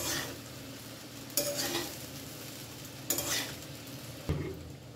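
Fried rice with salt, sugar, pepper and slit green chillies is gently mixed in a pan on low heat, a faint sizzle under three distinct scraping stirs of a spatula against the pan, no talking.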